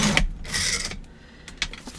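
Paper layout pages have their sides trimmed in a few short, sharp cutting and rustling bursts separated by quiet gaps, close and moderately loud.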